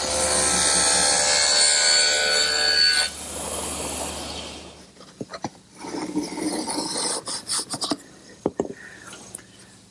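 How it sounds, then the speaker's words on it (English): Table saw cutting a groove along a wooden breadboard edge for a secretary desk: a loud sustained whine and cut for about three seconds, then spinning down into scattered knocks and handling sounds. "Now I want to make a groove in the breadboard edge at the table saw"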